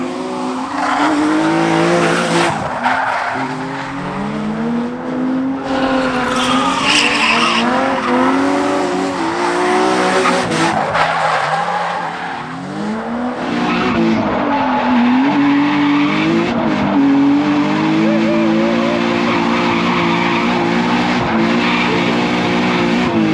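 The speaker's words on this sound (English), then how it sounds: "take the 370 out for a rip, take that 15 grand winner out for a ride now" A Nissan 370Z driven hard, its engine revving and falling with loud, sustained tire squeal that rises and bends in pitch for over twenty seconds, close and continuous.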